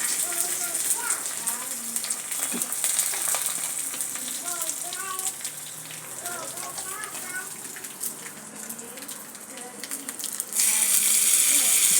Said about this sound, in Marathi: छान अशी फोडणी टाकायची